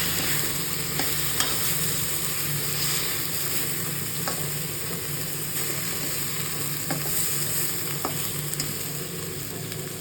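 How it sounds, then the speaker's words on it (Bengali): Ground spices (salt, chili and turmeric) fry in a hot pan and are stirred, giving a steady crackling sizzle with occasional spoon scrapes and taps close by. No one speaks. "এবার এর মধ্যে গুঁড়ো মশলাগুলো দিয়ে দিলাম একে একে।"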